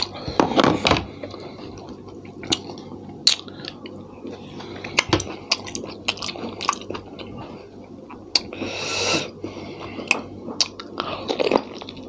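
Up-close chewing of boiled crunchy offal with sharp crunches and wet, squishy mouth sounds, irregular bites spread over several seconds, no talking.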